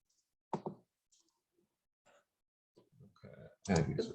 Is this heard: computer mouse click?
yes